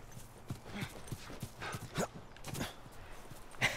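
Horse hooves clip-clop in The Last of Us, an irregular run of light hoof strikes on hard ground with a few louder steps near the end, close by and with no talk over them.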